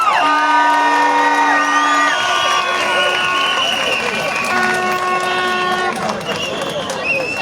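Loud, dense crowd cheering and whooping at a street protest in Batumi, Georgia, with sustained tonal cries and shouts layered over a steady roar that fills the whole stretch.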